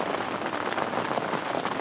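Heavy rain pours during a thunderstorm on a fishing outing by the Seine, a steady, close hiss of drops striking surfaces with no pauses.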